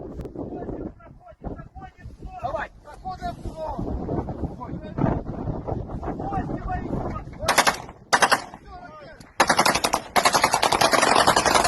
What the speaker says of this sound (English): The Ukrainian military shooting down some missiles with their air defense guns.